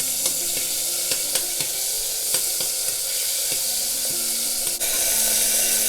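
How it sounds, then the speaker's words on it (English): Brown bean chili paste sizzles steadily in hot oil in a saucepan, a loud, continuous hiss with light scraping and ticking as it is stirred, nobody talking. "First, add 1 tablespoon brown bean chili paste into the pan."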